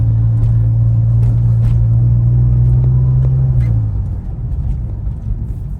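A 2005 Porsche 911 Turbo S Cabriolet 996 drives along with a loud, close, steady engine drone and rumble that eases lower midway through, with no talking.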